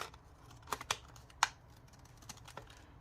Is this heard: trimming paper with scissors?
yes